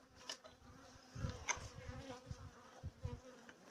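Honey bees buzz around an apiary on a dull day, faint scattered drones and short passes near the hives, quiet and intermittent rather than a dense swarm.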